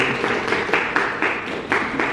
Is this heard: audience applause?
yes